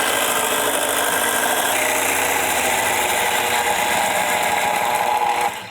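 An electric mixer whips meringue with sugar, its motor giving a loud, steady, buzzing whir that holds constant before cutting off abruptly at the end.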